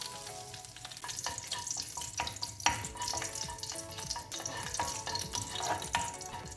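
Cardamom, cinnamon, cloves and bay leaf frying in hot oil, a dense crackling sizzle with quick spattering pops and light stirring scrapes, close and quiet, no talking.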